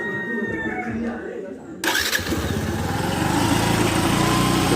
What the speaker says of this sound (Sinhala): ඊට පස්සේ බයික් එක ස්ටාර්ට් කරගන්න.